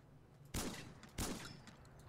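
Two sharp, loud gunshots from a weapon in Fallout 4, about half a second apart, each trailing off into a short rumbling echo, with no voices.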